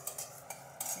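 Cumin, coriander seeds and peppercorns dry-roast in a pan, giving a few quick, faint rattling scrapes as they are stirred in short bursts.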